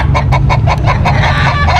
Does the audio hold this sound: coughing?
no